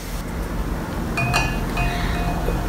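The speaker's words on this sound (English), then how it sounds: "I will be placing a plastic ball into the first glass," A plastic ball dropped into a drinking glass makes a couple of sharp, ringing clinks close by, followed by a fainter settling tap over steady background noise.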